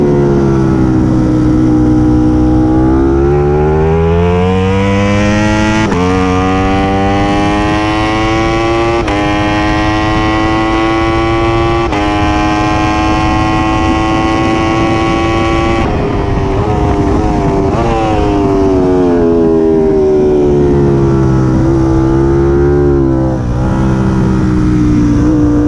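A Ducati Streetfighter V4 SP racing motorcycle roars loudly and continuously at a race circuit, its engine climbing through repeated rising revs with brief gear-change dips, alone without voices.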